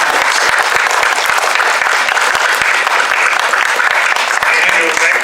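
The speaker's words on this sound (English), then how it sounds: "if I could ask everybody here to give them a round of applause" An audience at a Q&A event applauds loudly and continuously, a dense wash of clapping from many hands.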